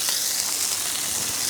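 Ice cubes tossed onto a hot griddle beside hot dogs hiss and sizzle in a bright, steady burst of steam, close and loud for a brief moment with no talk.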